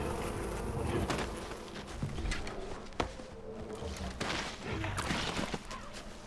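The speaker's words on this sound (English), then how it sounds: "Oh no, the bees!" A swarm of bees buzzes steadily in the game Far Cry Primal, a continuous fairly close drone with scattered impacts and clicks.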